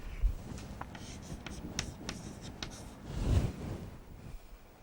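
Marker or chalk writing on a board, a quiet run of short scratchy strokes and taps, close and faint, with no voice over it.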